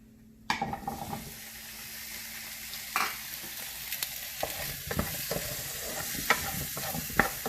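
Green tomatoes and garlic stirred and frying in a pot, with a steady low sizzle broken by irregular scrapes and knocks of a spoon against the pot, close and fairly quiet, no talking.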